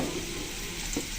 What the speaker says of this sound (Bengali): আলু পেঁপে একসাথে সুন্দর করে ভেজে নেব।